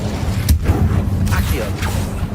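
Casting the Incendio fire spell in Hogwarts Legacy brings a few sharp, loud whooshing bursts and heavy thuds over a low rumbling game background.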